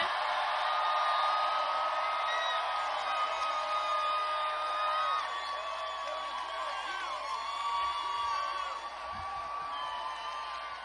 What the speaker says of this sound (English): please, give a warm round of applause to Killer Mike, ladies and gentlemen